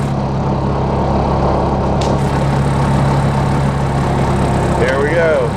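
A two-speed log-hauling machine hauling logs to a sawmill, its engine holding a loud, steady close-up drone with a short metallic clank partway through.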